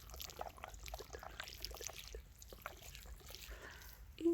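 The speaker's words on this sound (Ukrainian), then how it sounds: "Беремо водичку, поливаємо і саме дерево в знак подяки." Water is poured from a container onto the base of a newly planted tree, making a soft, steady trickle and splash that runs for several seconds, faint and close, with light handling noise.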